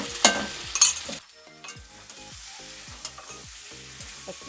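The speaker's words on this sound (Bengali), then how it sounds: "এবার আদা বাটা দিয়ে দিচ্ছি।" Spinach and ginger paste stirred in a hot pan, with two loud sizzling bursts as the paste goes in, then quieter frying and repeated scraping strokes of a spoon, no voices.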